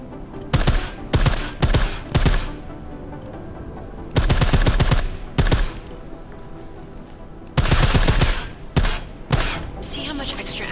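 Silenced gunshots from the video game Deus Ex: Mankind Divided ring out in three quick bursts of several muffled cracks each, loud and close, with short pauses between the volleys.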